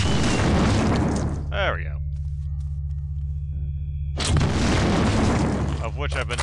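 Grenade launcher explosions from the video game System Shock 2 produce heavy, rumbling booms at the start and again near the end, with a person talking in the quieter stretch between them.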